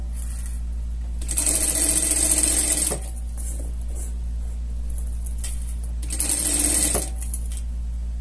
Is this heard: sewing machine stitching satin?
yes